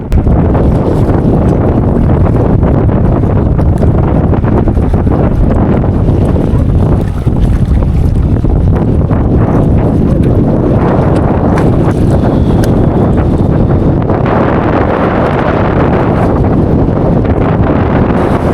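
Strong wind roars and buffets the microphone while rough sea waves crash and churn around a small fishing boat off a beach, loud and continuous throughout.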